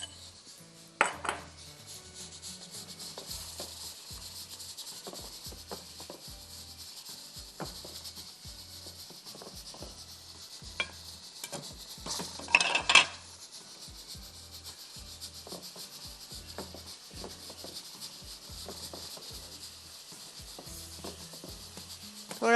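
Half a kilo of chicken is stirred and fried in a pan for Mughlai chicken, with a steady sizzle under repeated scraping and rubbing of the spoon against the pan and occasional sharper clinks.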